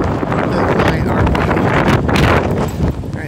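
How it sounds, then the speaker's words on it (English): Strong wind at an RV campground buffets the microphone in a loud, continuous roar that swells and gusts, with heavy low rumbling and no talk. "Pretty windy today, and it's going to be windier tomorrow"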